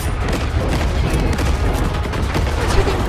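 Gunfire in the shooter game Far Cry 5, a dense unbroken burst of rapid shots over loud, steady background noise, close and harsh, with no voices heard.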